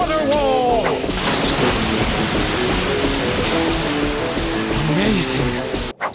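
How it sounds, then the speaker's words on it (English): Loud, steady rushing roar of water from a Water Style Water Wall jutsu in a Naruto anime battle between three Hokage, with voices shouting and music running over the broad wash of sound. "Water style! Water wall!"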